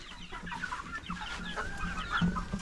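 Orpington chickens cluck and murmur in short bursts over a steady outdoor background noise, close by and moderately quiet.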